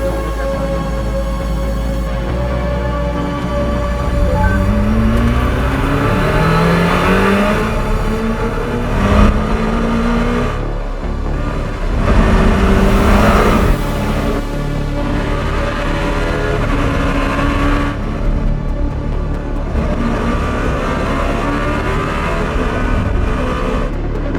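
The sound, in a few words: Czinger 21C hypercar accelerating out of corner at Laguna Seca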